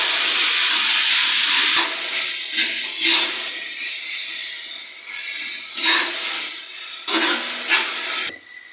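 Finely chopped green chillies hit two ladles of hot oil, making a loud hissing sizzle that swells and fades in repeated bursts, with no voices.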